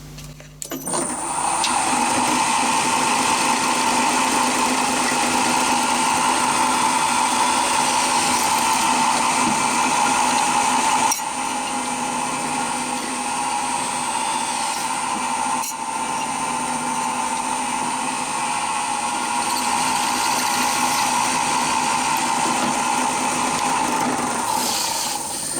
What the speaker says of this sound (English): I drill the second hole in the CNC mill